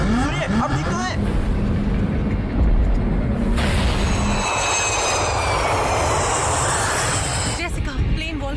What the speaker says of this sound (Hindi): जेसिका, प्लेन वोल्केनिक ऐश क्लाउड से गुजर रहा है।